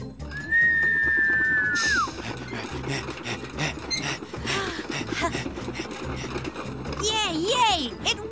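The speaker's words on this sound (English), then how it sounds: "this was a quiet whistle" A cartoon train engine's sustained high whistle slides and then drops away, followed by scraping noises and a brief wavering toot near the end.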